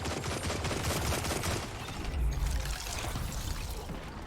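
Rapid machine gun fire in a shooter video game, a dense, continuous burst of shots that rattles on for several seconds with no talking over it.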